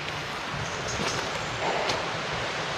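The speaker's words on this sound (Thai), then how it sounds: "ข้างล่างก็จะเป็นลำห้วยนะครับ" A forest stream flows below a trail through lush, old watershed jungle in the rainy season, giving a steady, loud, broadband rush of water that fills the whole stretch without pause.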